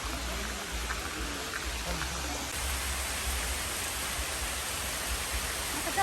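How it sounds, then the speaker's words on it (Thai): Steady rain falls outdoors at a zoo, a broad even hiss of drops that stays constant throughout, with faint voices now and then underneath. "ฝนตกแล้ว"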